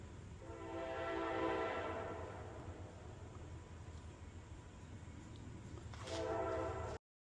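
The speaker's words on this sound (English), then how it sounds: "Oh, there's the train." A train passes at a distance with a long horn blast that swells and fades, rail rumble underneath, then a second horn sounds near the end.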